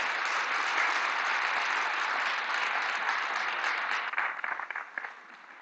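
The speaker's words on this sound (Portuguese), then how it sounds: "Aplausos." An audience at a critical-thought forum in Fortaleza applauds a culture ministry secretary with sustained, dense clapping that thins into scattered individual claps near the end.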